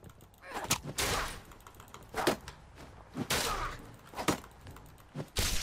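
Enemy gunfire in Fallout 4 arrives as several sharp, separated shots and short bursts, close and punchy, spaced irregularly across the stretch with quieter gaps between them.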